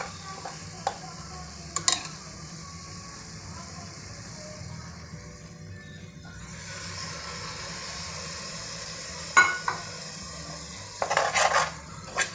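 Masala mixed with yogurt for egg biryani is sautéed in a pan: a low sizzle under spoon strokes, with sharper clinks against the pan near the start and end.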